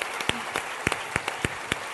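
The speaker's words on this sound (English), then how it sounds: "Give him a round of applause for that." An audience claps in a hall, a thin round of distinct, irregular handclaps with gaps between them, fairly close and moderately loud.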